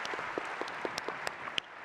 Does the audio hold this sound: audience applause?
yes